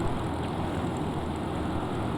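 The engine of an X Cub light aircraft roars at full takeoff power from inside the cockpit, a loud, dense, unbroken drone with no break.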